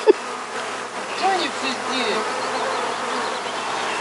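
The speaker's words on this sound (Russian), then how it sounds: "Я сегодня первый раз вышла к пчелам." Honeybees buzz close up around the hives at a village garden, a steady insect drone with individual bees swooping past near the ear, rising and falling as they fly by.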